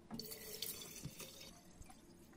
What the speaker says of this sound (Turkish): Şimdi meyvelerimin üzerine hazır içme suyuyla dolduruyorum.